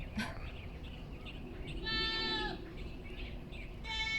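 A flock of sheep bleating on a Chinese family farm, several overlapping calls in two clear bursts over a low background murmur.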